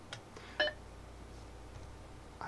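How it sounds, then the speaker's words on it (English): A Macintosh running System 7 sounds its alert beep: one brief, faint electronic tone burst against a quiet background, with a few soft clicks around it. "Let's change that alert beep."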